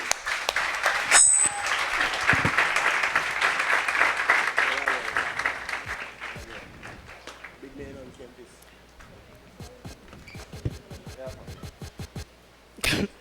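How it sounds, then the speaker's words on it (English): Audience at a tech summit panel applauding, a dense burst of clapping that thins into scattered claps as voices talk over it and sounds shift around the stage. "another round of applause"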